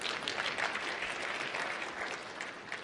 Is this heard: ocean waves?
no